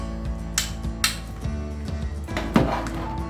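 Metal lid lifted off a pot of vegetarian Bengali bhoger khichuri, a couple of sharp clinks and scrapes of metal at close range over quiet background music, with no voices.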